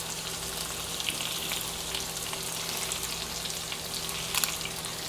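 Shrimp frying in a pan for pancit palabok, a steady, close sizzle with crackles running the whole time, no talk.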